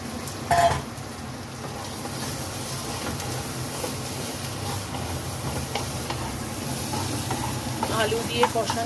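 Potatoes sauté in a pan for Bengali ghugni, giving a steady soft sizzle with occasional stirring and scraping, a brief louder clatter near the start, and faint talk in the background.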